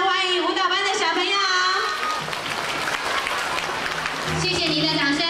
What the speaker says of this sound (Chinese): 以热烈的掌声欢迎舞蹈班的小朋友